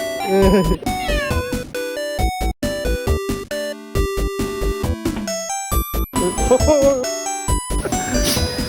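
A cat meows repeatedly in short, clear calls, with chiming, tinkly musical tones and other busy sounds layered around it.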